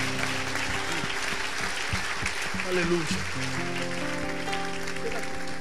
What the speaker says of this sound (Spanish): Dé un aplauso fuerte,